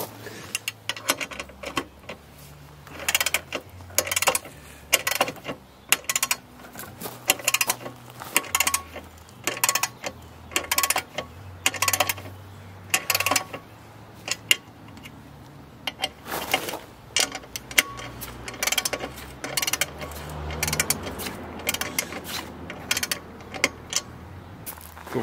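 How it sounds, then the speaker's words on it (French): Screws being tightened to 25 Nm while BMW R1250GS Trekker parts are fitted to the motorcycle: repeated close metallic ratcheting and clicking bursts over a steady low hum, with brief pauses between runs. "Serrage, on va rester sur 25 Nm qui permettra d'avoir un bon niveau de serrage."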